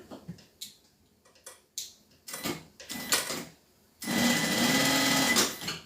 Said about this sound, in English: This sewing machine is so fast.